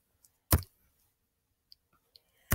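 Two sharp, close computer mouse clicks spaced about two seconds apart, with a few faint ticks between them, in an otherwise quiet room.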